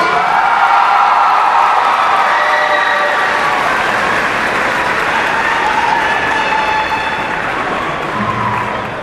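Graduates at a 2012 Rockford Jefferson High School graduation ceremony give their parents a loud, sustained round of applause filling a large hall, with scattered cheers and whoops, steady throughout and easing slightly near the end.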